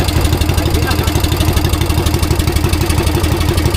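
A boat engine runs after repairs out on the Pacific, chugging in a steady, loud, rapid rhythm up close with a clattering mechanical texture.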